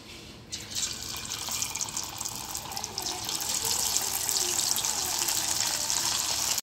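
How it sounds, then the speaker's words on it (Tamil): Prawns dropped one by one into hot oil in a pan, frying with a steady loud hiss and crackle that swells and stays strong throughout, with no talking. "இப்போ இந்த எறா ஒன்று ஒன்றா எடுத்து போட்டு பொரிச்சிக்கலாம்."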